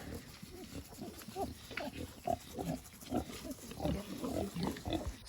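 Kunekune pigs on a farm grunting and snuffling in a steady stream of short, overlapping low grunts, close by and moderately loud, with no talking.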